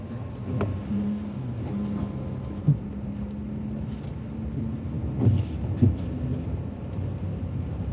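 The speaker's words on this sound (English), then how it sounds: "Bad news, it's raining" Rain with low rolling thunder while waiting in a ferry lane near Ocracoke, a steady hiss and drone throughout with a few soft thuds and knocks, no talk.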